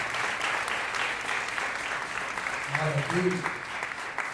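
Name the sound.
church congregation applauding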